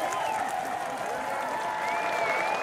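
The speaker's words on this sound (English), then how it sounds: "Clap it up, clap it up." A crowd at a reparations rally applauds in a sustained, even burst of clapping and cheering, with a voice faintly audible in the mix as the ovation carries on for a few seconds.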